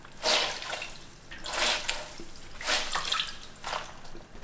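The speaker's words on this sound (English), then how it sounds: "I'm gonna layer that with some wet rags in this plastic laundry" Wet rags are slapped down into a plastic laundry basket as a landing foley effect, giving four soft, splashy, damp thuds spaced about a second apart, close and fairly quiet.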